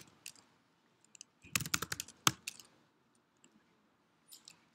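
Computer keyboard typing of code during a programming lecture: a short, dense cluster of sharp key clicks, then a few scattered taps, close and otherwise quiet.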